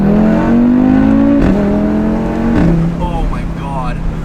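A tuned Audi RS3 with a catback exhaust accelerates hard, its loud engine note climbing through two gear shifts before the revs settle as the car cruises on, heard from close by.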